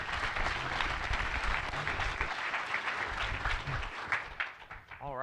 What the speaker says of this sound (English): a final round of applause for all of the Ignite speakers